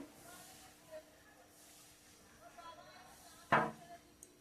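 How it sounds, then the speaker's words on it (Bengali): A cooking pot lid is lifted off a pot of doi phool kopi (cauliflower in yogurt), giving one short clattering clack near the end over an otherwise quiet kitchen background. "মিনিট হয়ে গেছে এবার আমি ঢাকনাটা খুলছি দেখুন"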